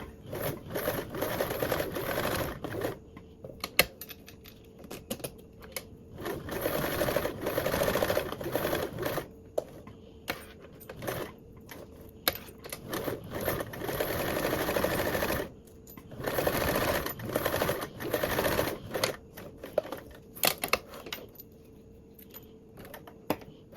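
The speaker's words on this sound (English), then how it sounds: "top stitch on the top and bottom half of the binding" A sewing machine top-stitches fabric binding with an eighth-inch seam allowance in long runs of rapid mechanical chatter, separated by brief pauses, close and loud, with no voices.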